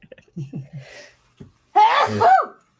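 One loud, close sneeze bursts out after a few small breathy intakes, alone without talk.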